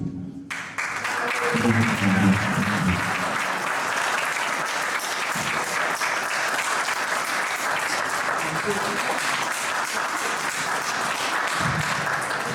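Sustained applause from a large church congregation at a wedding, loud and continuous throughout, with cheering voices mixed in.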